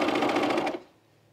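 A sewing machine runs in a fast, steady burst of stitching through pajama bottoms with elastic and a thick self-fabric pocket, then stops abruptly into quiet.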